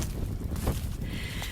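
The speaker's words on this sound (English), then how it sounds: "The wind gusts, flattening the grass and literally taking my breath away." Wind gusts across a mountain meadow on the Te Araroa trail, buffeting the microphone in a rough, close rush that swells and falls over a moment.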